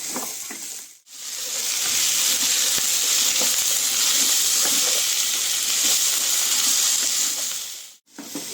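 Chopped vegetables, ridge gourd and potato for a Bengali posto dish, sizzle and crackle steadily in hot oil in a pan, a dense close hiss with faint stirring scrapes, briefly broken at both ends.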